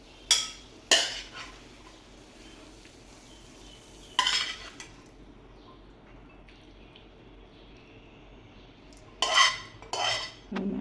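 A metal spoon scrapes and clinks against a pot and bowl while cooked choli-potato curry is served out, with a few short clattering bursts separated by quiet pauses and a faint background hiss.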